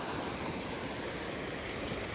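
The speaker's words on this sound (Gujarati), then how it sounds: "હજી પાણી આવ્યું જ જાય છે કેટલું પાણી છે" Steady, dense rushing of a flooded village river after heavy rain fills the whole clip, a constant broadband wash of fast-flowing floodwater, with no voices.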